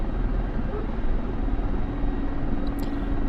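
Mi-24P helicopter in a flight simulator game taxiing onto a runway, a steady loud rotor and engine drone with a dense low rumble throughout, unchanging and continuous.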